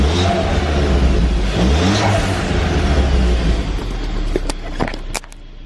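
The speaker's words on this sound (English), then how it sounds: "I'll give it a little rev." A Ford Fiesta ST engine with turbo revs up loudly close by, climbing and falling through a couple of throttle blips before settling, then ending with a few sharp clicks and clatters.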